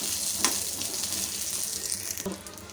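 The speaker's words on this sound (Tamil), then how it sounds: "பச்சை மிளகாயை சேர்த்துட்டு ஒரு ஒரு நிமிஷம் வதக்கினதுக்கப்புறம்" Green chilies and curry leaves sautéing in a pan give a steady, close sizzle and frying hiss, with a couple of soft scraping stirs from a spoon and no talking.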